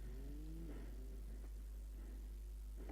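Citroën C2 with a peppy 1.6 engine accelerating in BeamNG Drive, its mid-pitched engine note rising through short revving surges over a constant low hum, with no talking.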